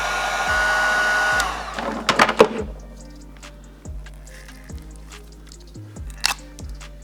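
A heat gun blows steadily for over a second while warming a brittle BMW F10 535i intake hose, then shuts off. Scattered clicks and handling noises of the hose follow, with no talk.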